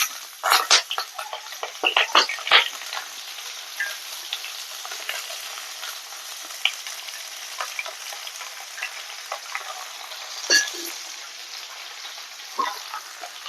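Water lily stems hit hot oil with black cumin and dried chilli, setting off a loud crackling sizzle with sharp pops that settles into a steady fry close by.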